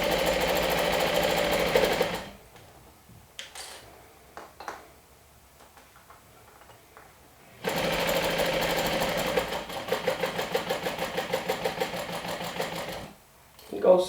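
A sewing machine stitches a plush blanket made from two adult toppers, running in two long steady bursts with a quiet pause between them and a brief start at the very end; a voice talks faintly during the gap.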